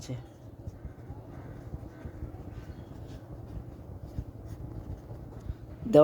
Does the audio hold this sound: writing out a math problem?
yes